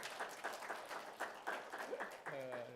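Applause from a congregation during a church service, with even clapping throughout and a voice briefly speaking over it near the end.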